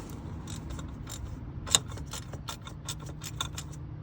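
Faint, quick clicking of a socket wrench ratcheting on the fuel pressure regulator of a Ford Transit 3.2 TDCi, in uneven bursts with one sharper metallic tap, heard close in a quiet space.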